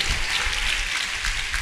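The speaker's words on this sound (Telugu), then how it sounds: "చప్పట్లు కూడా దేవునికి స్తోత్రం." Applause from a church congregation forms a dense, even wash of many hands clapping at once, sustained and fairly close.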